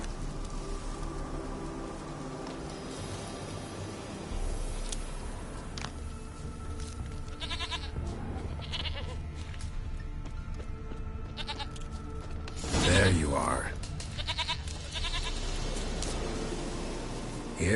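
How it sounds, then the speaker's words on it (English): A goat bleating in the video game The Witcher, wavering calls set against a dense, noisy ambient game soundscape, with a louder burst near the middle. "Here, goat."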